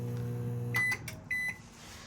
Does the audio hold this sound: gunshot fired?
no